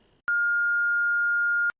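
A single sustained electronic tone from an answering machine, played between recorded messages, holds steady and loud for about a second and a half before cutting off cleanly, with silence on either side.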